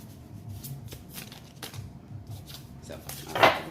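A deck of tarot cards is shuffled by hand in soft riffling flutters, ending in a louder crisp snap of cards near the close; speech is present in the clip.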